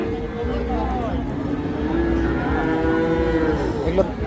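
Cross-breed calves low at Hazratpur cattle market, a few drawn-out moos rising over a busy crowd while men bargain nearby, the animals fairly close and loud.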